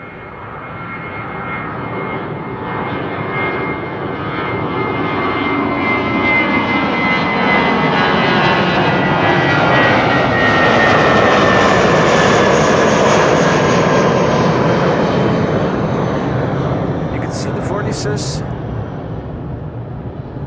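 An Airbus A330 jet passes at Amsterdam Schiphol, a loud sustained engine roar that swells to a peak midway and slowly fades, with a few brief high ticks near the end.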